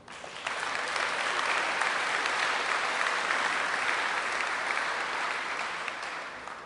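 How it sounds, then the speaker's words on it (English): An audience at a graduation ceremony applauds steadily for several seconds, a dense wash of clapping that fades slightly near the end. "Please give him and his staff a round of applause."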